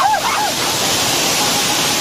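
The Raikal waterfall in a Telangana village rushes in a loud, steady broadband roar; a voice briefly cuts in at the start.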